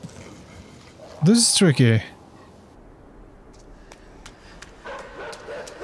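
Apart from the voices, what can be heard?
dog barking in the video game Inside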